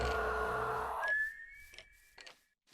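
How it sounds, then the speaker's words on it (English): A toy-like whistle sounds in a Minecraft horror add-on, blown to scare off the Pale Man: one sustained rising tone after a loud burst of game noise, followed by faint footsteps and shuffling. "the whistle used to apply fear to the pale man"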